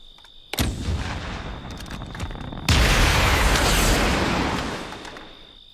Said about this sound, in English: So the gun with rockets attached to it wants to take off.